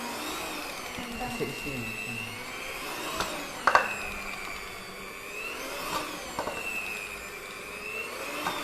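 A cheap electric hand mixer whirs steadily while kneading donut dough, its motor whine rising and falling in pitch under the load, close and continuous, with a few clunks and someone speaking briefly over it.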